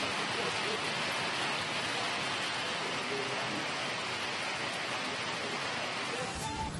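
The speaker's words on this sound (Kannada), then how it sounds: "ಬೆಳಗ್ಗೆಯಿಂದ ಎಡೆಬಿಡದೆ ಸುರಿತಾ ಇದೆ ಮಳೆ" Heavy rain pours down in Bangalore, a dense, steady hiss of rainfall that stays loud and unbroken throughout, with no voices.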